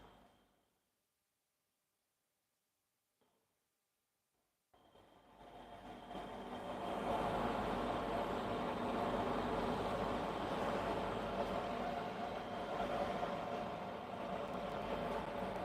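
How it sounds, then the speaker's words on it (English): A sock printer's conveyor carries a printed sock into its heating oven, rising from near silence into a steady mechanical hum and rumble that holds at moderate loudness. "And now this conveyor system, the train carries this sock inside to the oven."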